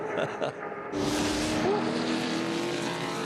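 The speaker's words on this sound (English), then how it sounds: "They're on the rev limiter at the end of Conrod Straight" Touring Car Masters race cars at the end of Conrod Straight, Bathurst, roar past at full throttle on the rev limiter, loud and sustained after a quieter opening, with a commentator's voice faintly present.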